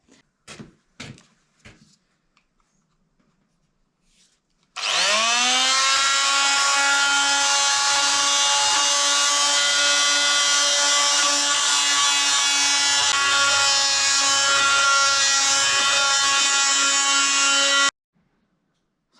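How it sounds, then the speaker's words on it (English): A big Bosch vibrating sander works over a wooden sign, a steady, loud motor whine that runs unbroken for about thirteen seconds after a few light knocks, then cuts off abruptly. "So I used the vibrating sander, the big one."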